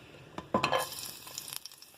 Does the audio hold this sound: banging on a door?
no